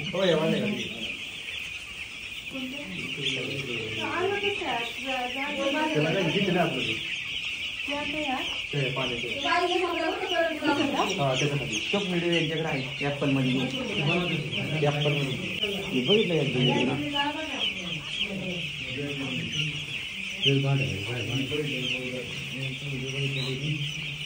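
Hens and small chicks cluck and cheep in a poultry farm in Maharashtra. The calls are steady and overlapping over a constant high hum, with people talking quietly in the background.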